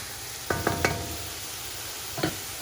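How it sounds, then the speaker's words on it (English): Onions frying in a pot as the base for a Cajun chili, a soft steady sizzle broken by a quick run of three utensil knocks against the pot and two more near the end. "All right, the onions are becoming real translucent. So let's just fry this a little bit more."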